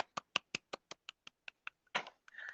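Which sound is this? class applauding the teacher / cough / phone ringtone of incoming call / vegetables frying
class applauding the teacher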